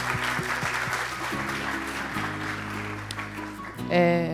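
A conference audience applauds steadily over a low humming tone, the clapping continuing at an even level throughout.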